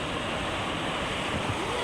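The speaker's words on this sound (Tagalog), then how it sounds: "Laki ng alon" Steady roar of ocean surf washing continuously, loud and close, with wind noise and no clear talk.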